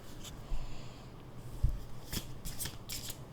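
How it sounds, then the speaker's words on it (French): Tarot cards drop onto a surface with a couple of soft thuds, then are shuffled in quick riffling bursts, close and fairly quiet, with no one talking. "J'ai encore des cartes qui tombent."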